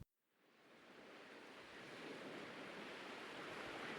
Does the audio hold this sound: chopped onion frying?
no